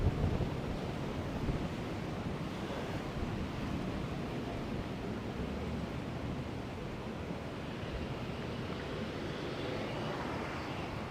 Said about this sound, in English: Kind of windy tonight.